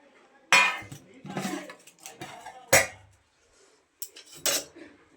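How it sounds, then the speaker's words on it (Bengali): Dishes and utensils clink and clatter as rice, meat and egg curry are served at home, several sharp close knocks and scrapes in bursts with quiet gaps between, no talk. "বেড়ে নিই।"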